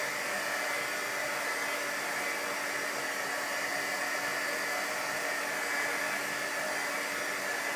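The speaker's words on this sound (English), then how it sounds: "I need to dry it out real quick before I drop the thing on it, and then I will heat set that part again." A hair dryer or heat tool drying watercolor fabric ink on a craft project, a steady loud rushing blow held close and unchanging throughout, with no voices.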